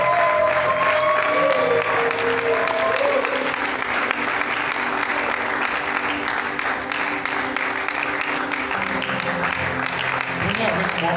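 A church congregation applauding together, a dense, steady wash of clapping that holds loud and close throughout, with a faint voice and sustained tones in the background.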